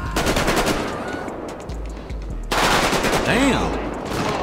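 GTA 5 video game gunfire on a city street: rapid automatic bursts and repeated shots, loud and dense, with someone briefly talking over the shooting.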